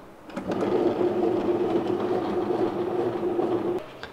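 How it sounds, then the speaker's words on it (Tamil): A Preethi Astra kitchen grinder slicing halved onions runs with a steady motor hum and rattling buzz for about three seconds, starting and stopping abruptly, close and alone. "இதில் இப்போ வந்து ஆனியன் ஸ்லைஸ் பண்ணிக்கலாம்."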